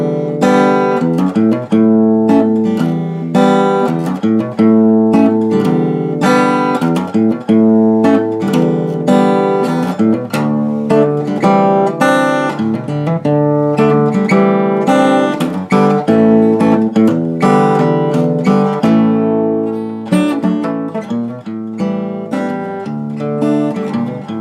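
Acoustic guitar in double drop D tuning plays a section of a song, a busy fingerpicked pattern of plucked notes and chords, loud, close and steady, with no voice over it.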